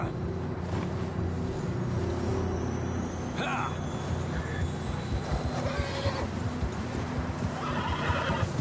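In the Red Dead Redemption 2 video game, John's horse gives a sharp whinny amid clip-clopping hooves and rumbling background ambience, with a few other neighs and creaks scattered through, and voices speak briefly beneath.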